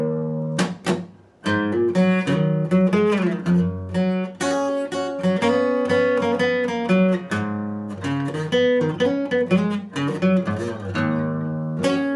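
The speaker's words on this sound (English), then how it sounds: "Parts 1 through 8 of the introduction played together in roll speed will sound like this." An unaccompanied guitar plays a song introduction parts 1 through 8 at full speed, with flowing strummed chords, hammered embellishments and quick melodic fills over twelve seconds, moderately loud and clear.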